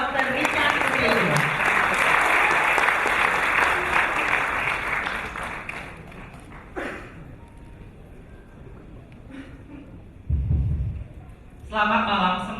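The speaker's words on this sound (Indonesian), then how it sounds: "dengan tepuk tangan meriah kita panggil Dr. Richard Susilo." Loud audience applause fills a hall as a doctor is called up to speak at a Biogreen Science event, sustained and dense before tapering into quieter room noise with a few brief bumps.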